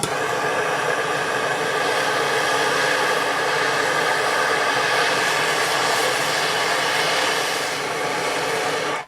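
A heat gun blows hot air onto stuck bolts on a Honda CT70H motorcycle engine, giving a loud, steady, hissing roar that runs nonstop for about nine seconds, with no talking.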